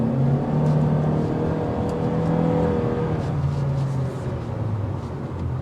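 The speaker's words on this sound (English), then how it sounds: "put it into the S, which is Sport, to demonstrate that speed" A 2023 Honda Civic accelerates in Sport mode with a loud, continuous engine drone and whirring road noise from the cabin. The pitch stays fairly even as it pulls, with no talking.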